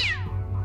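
A single cat meow, close and clear, with a falling pitch that fades over less than a second against a steady low hum.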